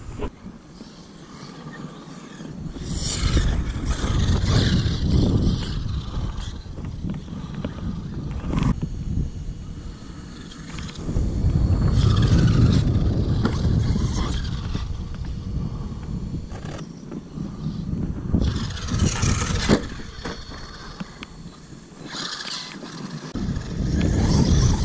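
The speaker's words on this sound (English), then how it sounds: "I can hit full throttle with it though" An Arrma Kraton EXB 6S RC car runs at full throttle outdoors, giving a loud continuous whining roar that rises and falls in long surges with gravelly rumble underneath.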